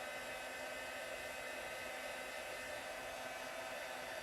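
A heat tool blows steadily while melting embossing powder on vellum, giving a constant, even whooshing hum close to the mic with no changes in pitch or level for its whole length and no talking.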